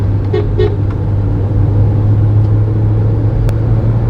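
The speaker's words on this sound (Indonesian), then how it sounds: "Oke, sekali lagi kita tes akselerasi." A 2017 Mitsubishi Outlander Sport accelerates on a test drive in drive mode with manual downshifts, its engine a loud, steady low hum and road rumble heard from inside the cabin.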